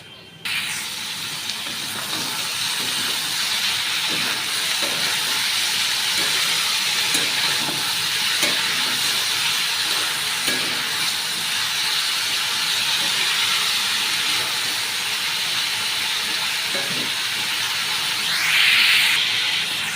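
Thin-cut potatoes and onions fry in a pan, giving a steady close sizzling hiss that holds evenly throughout with a few faint clinks and no talk.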